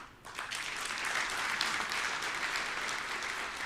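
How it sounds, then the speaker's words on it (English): Audience at a South Africa–Côte d'Ivoire business forum breaking into sustained applause, a full, even wash of many hands clapping that swells quickly and holds steady throughout. "Please applaud them."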